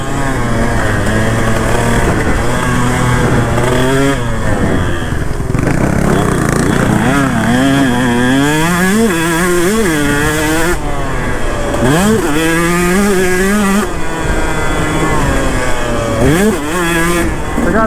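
KTM 150 SX two-stroke dirt bike ridden hard, its loud buzzing engine repeatedly revving up and dropping as gears change, with a rough, uneven shifting rhythm and close, continuous sound the whole way.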